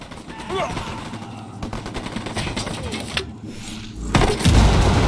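Rapid bursts of automatic gunfire rattle through a firefight in the video game Ghost Recon Wildlands, with scattered shots and a heavy boom near the end, loud and close.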